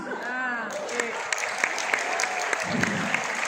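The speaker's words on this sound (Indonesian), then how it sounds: "tepuk tangannya keras banget" Loud audience applause fills a seminar hall, dense continuous clapping from many hands with a few sharper individual claps standing out.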